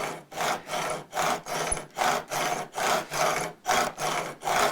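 A metal file rasps across the excess fret ends on a Fender MIM Telecaster neck during a re-fret. About ten even back-and-forth strokes scrape in a steady rhythm, fairly quiet and close.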